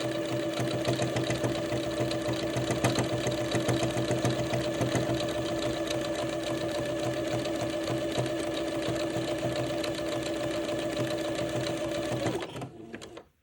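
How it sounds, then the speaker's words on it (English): A domestic sewing machine runs a fine, narrow zigzag stitch attaching entredeux to a gathered ruffle for a Christmas dress, a steady close whirring hum that continues without pause for about twelve seconds, then stops. "it's an appropriate stitch length and stitch width for sewing entredeux. It's not a big zigzag."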